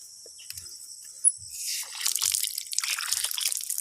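Soft trickling, splashing fresh water builds from near silence into a steady flowing rush, with a few low bumps early on.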